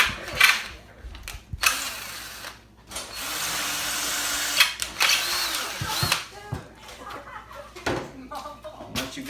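A power drill bores out rivets on a Jeep TJ during a top install, whirring in repeated loud bursts with short pauses between them and a voice talking over parts of it.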